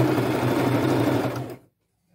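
A sewing machine runs a straight stitch down the side seam of a pant leg, making a loud, rapid, steady whir up close that stops abruptly after about a second and a half.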